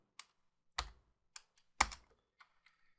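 Typing on a computer keyboard while writing a Free Pascal program in Lazarus: a handful of sharp, separate key clicks at an uneven pace, close and fairly quiet, with no voices.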